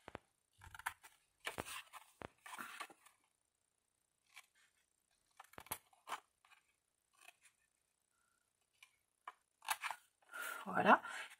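Scissors snip paper cutouts for an advent calendar in short, separate bursts of cutting with pauses between, close and fairly quiet, with a few soft handling rustles.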